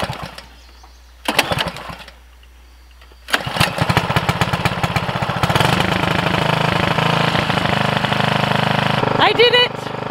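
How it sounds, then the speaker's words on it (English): A garden tiller's small engine cranks in two short bursts, then catches and runs on with a loud, steady rattling roar, sputtering briefly near the end; a voice is heard along the way. "Let's see if I can get the tiller to start."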